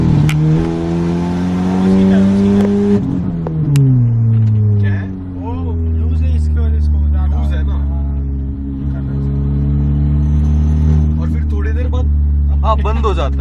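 Skoda Octavia TSI with a tuned ECU and an exhaust leak, driving with a low engine drone that rises and falls through gear changes, heard from inside the car with some background voices.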